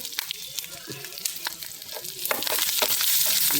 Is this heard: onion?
yes